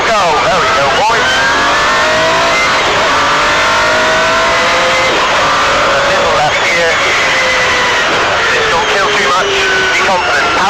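An MG Metro 6R4 rally car engine roars loud and close, revving hard as it accelerates with some tyre noise, while a voice calls out over the constant engine din.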